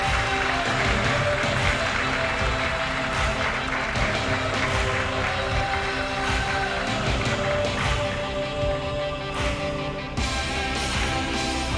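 A conference audience in an auditorium claps steadily for an official ceremony, with dense, sustained applause filling the room from start to finish, with no voices prominent above it.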